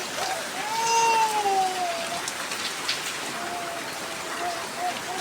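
Heavy rain pours steadily under a dark sky, a dense, even hiss close by, with a faint wavering tonal call drifting over it.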